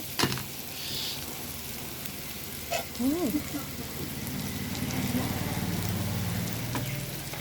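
Food sizzles steadily in a pan while a utensil scrapes and stirs through it, with soft background noise and faint voices in between.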